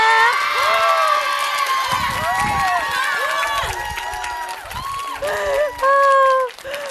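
Studio audience at a Korean talk concert cheering and clapping as a shopping mall CEO guest is welcomed, excited shouts and whoops over clapping, with music and a host's voice mixed in, lively and close.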